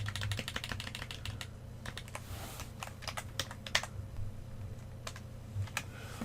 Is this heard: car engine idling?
no